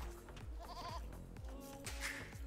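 Goats in a real-time strategy game bleat in a quick, wavering burst of a few calls, loud and close, standing alone without talk.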